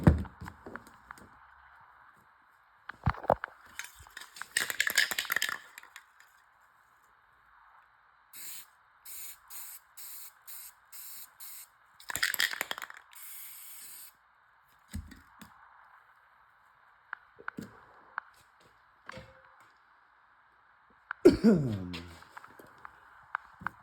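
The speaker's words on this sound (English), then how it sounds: "I'm looking good to get to spraying back up here." A rifle being spray painted, with several hissing bursts of aerosol paint of varying length separated by pauses, plus light handling clatter nearby and a faint steady background tone throughout.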